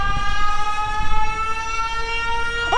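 A steady, loud siren like Siren Head's wails in stacked, sustained tones for nearly three seconds, with a sudden pitch bend right at the end and no voices.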